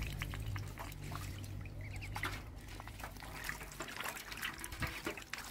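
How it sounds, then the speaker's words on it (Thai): Water splashes and trickles while an animal water basin is scrubbed and rinsed on a Barbary sheep farm, a continuous close wet sloshing with no talk. "อ่างน้ำนี่เราก็ล้างให้เขา"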